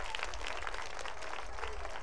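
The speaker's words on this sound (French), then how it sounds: "Alors les enfants, on applaudit très très fort pour Tonton Thibaut," Children at a youth circle event in Africa applauding loudly together, a dense steady roar of clapping sustained throughout with some crowd voices mixed in.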